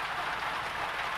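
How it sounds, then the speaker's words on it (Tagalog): Heavy rain pours down outdoors during a catch-and-cook fishing trip, a steady, dense hiss of drops that stays even and unbroken throughout, with no voices over it. "Lakas ulan."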